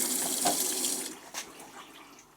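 Water runs steadily into a washing machine's detergent drawer, a continuous close splashing hiss that eases off toward the end, with no voices.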